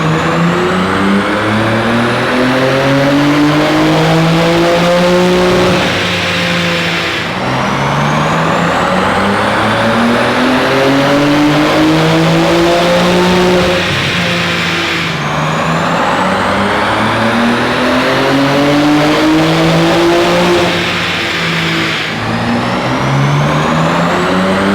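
A BMW G80 M3 in sport mode accelerates hard through repeated rising gear pulls, each climb broken by a brief shift, loud and sustained throughout.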